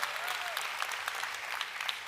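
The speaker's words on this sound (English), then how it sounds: "Come on, you can clap for that." A church congregation applauds steadily throughout, a dense crowd clapping at moderate level with no clear pauses and no voices rising above it.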